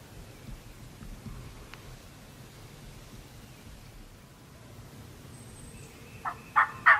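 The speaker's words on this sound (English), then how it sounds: "we had several birds gobbling around" Wild turkeys gobble in the distance during a spring hunt in Hancock County, three sharp rattling gobbles near the end rising over a steady hiss of ambient noise, with no voices.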